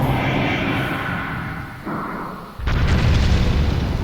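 A bomb explodes in Legend of Zelda Skyward Sword HD: after a stretch of quieter game sounds, a sudden loud, close blast hits and gives way to a heavy, sustained rumble.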